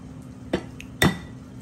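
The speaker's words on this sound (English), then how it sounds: "I'm just gonna crack these eggs and put it in here like this" Eggs cracked against a bowl in the kitchen make two sharp, close taps about half a second apart, with a faint clink between them over a quiet background.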